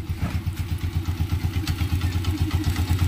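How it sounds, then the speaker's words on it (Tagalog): A Honda TMX 125 motorcycle idles after a tune-up, with a steady rhythmic low putter and light, soft valve clatter, close and alone. "Hindi mo masyadong maririnig yung kanyang lagitik, unlike ng standard tune up na napakaingay"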